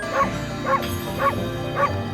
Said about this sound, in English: Her side taunt is just barking.